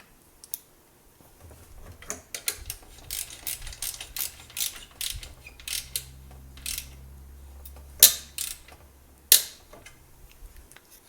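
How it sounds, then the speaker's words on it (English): A 12mm ratchet tightening a drive belt bolt on a Subaru engine: runs of fast clicking pawl strokes close up, with a couple of sharp metallic clanks in between. "Then we'll go ahead and tighten this with our 12mm ratchet"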